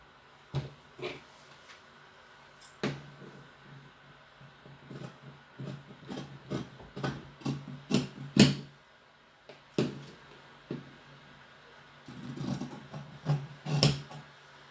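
Scissors cutting through fabric along a shirt dress pattern, a series of sharp snips and rustles arriving in irregular bursts, fairly close and without speech.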